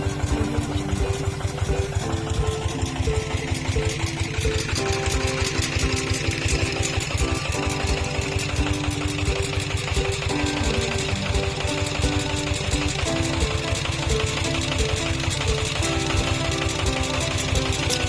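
A walk-behind tractor's small single-cylinder engine chugs steadily and loudly throughout while direct-seeding a rice field, its rapid, even putter unbroken and close by, with no voices.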